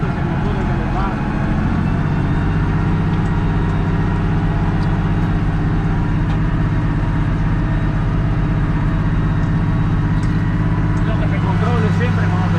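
Tractor engine running steadily while ploughing with a plough, a loud low continuous drone throughout, with people talking over it.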